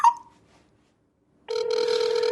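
During a prank call, a telephone ringback tone comes in steady and clear after a brief blip and a stretch of silence, ringing continuously to the end with no talk over it.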